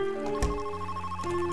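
Telephone ringing in the stealth video game Monaco, a short electronic ring with bright sustained tones and a brief thump, heard alone.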